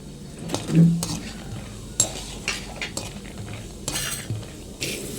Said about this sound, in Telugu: ఇప్పుడు ఇందులో పల్లీలు వేసుకుని వేయించుకుందాము